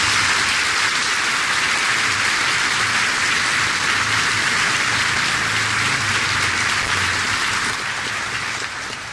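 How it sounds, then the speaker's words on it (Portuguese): A church congregation applauds at a Pentecost Mass, a dense, steady wash of clapping from many hands that fills the space for nine seconds, tapering slightly toward the end, with no voices. "Aplaudamos, irmãos, os dons do Espírito Santo"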